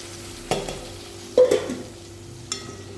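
Tomatoes frying in a pan for a meal maker curry, heard as a low, quiet sizzle with a low steady hum beneath and three separate knocks or stirring clatters spaced across the stretch, with no voices.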